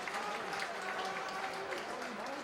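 Spectators at a 2010 amateur Australian rules football reserves grand final, North Beach against North Fremantle, clap an injured player off the field, a steady distant patter of applause with a commentator's voice audible.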